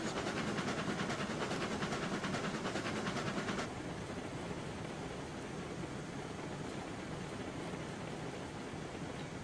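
Train rolling at speed along the tracks in RAILROADS Online, a steady broad rumble with rapid rhythmic clatter for the first few seconds, then a smoother continuous roar, no voices.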